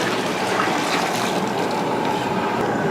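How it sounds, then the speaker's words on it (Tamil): Steady, loud rush of water pouring into a large cooking pot, continuous gushing for the whole stretch with no pauses or voices. "நல்லா தாராளமாக ஊற்றிடுவோம் தண்ணி"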